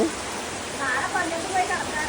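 Steady rainfall on a Kerala evening, a broad continuous hiss with scattered droplet spatter, moderately loud throughout and heard alone without voices.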